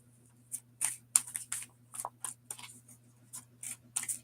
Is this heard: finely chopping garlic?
no